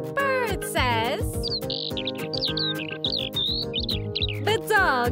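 Bird chirps in a quick run of short tweets over upbeat children's nursery rhyme music, with sing-song vocal flourishes before and after the calls.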